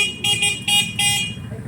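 Horn on a red 200cc 4x2 UTV buggy honks in three short bursts with brief gaps, loud and close, over a low idling engine rumble.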